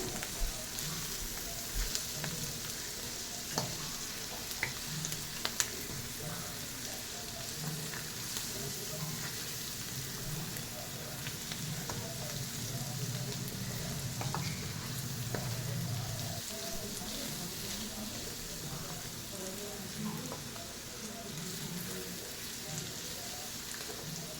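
Rice dish frying in a pan with dry chilli powder and turmeric, a continuous soft sizzle with intermittent scraping stirs, fairly faint, and a voice briefly audible partway through.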